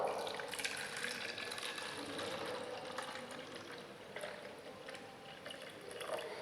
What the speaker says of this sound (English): If you add more water to the bottle, now add more water.